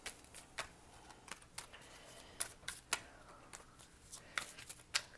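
Vice Versa tarot cards, printed on both sides, are shuffled close up in quick irregular bursts of riffling and slapping, with quiet pauses between.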